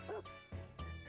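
Small dog Strelka barks in the visual novel Little Busters!, three short yappy woofs in quick succession, close and clear with no talking.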